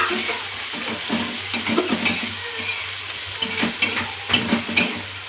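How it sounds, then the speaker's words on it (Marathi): Chopped tomatoes roast and sizzle in a pan with a steady hiss, broken by repeated soft scrapes and knocks of a spoon stirring, close and fairly loud, with no talk. "ह्याला मस्त आपण आता ह्याला भाजून घेऊया टोमॅटोला."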